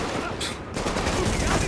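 Dense gunfire from a firefight in The Division, a continuous fusillade of overlapping shots from several weapons at mid distance, loud and unbroken.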